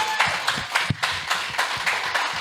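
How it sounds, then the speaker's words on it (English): Audience at a Puerto Rico Blockchain Trade Association disaster relief event claps to welcome the speakers, a modest round of applause with distinct individual claps close by, steady for a couple of seconds. "Help me welcome them with a big round of applause"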